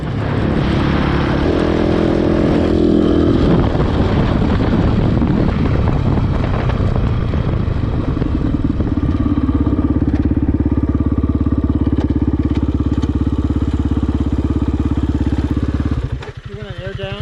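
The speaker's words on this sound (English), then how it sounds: "Raoul is on his Honda Rally, 300L Rally, which he bought sort of as a training bike." Kove 450 Rally and Honda CRF300L Rally motorcycles ride gravel roads on the Olympic Peninsula, a steady loud engine drone with heavy wind buffeting throughout, easing near the end.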